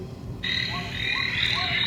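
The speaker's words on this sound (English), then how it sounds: "It's like frogs and here. It's like Amazon noises." Recorded frog croaks and a high insect-like trill, Amazon-style nature sounds, play from a small projector light, with short repeated croaks under a constant buzzing chorus.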